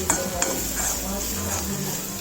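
Banana flower vegetable with Malvani masala being sautéed in a pan, with a steady oily sizzle, scraping stirs of a spatula and a couple of sharp metallic taps against the pan, close and fairly quiet.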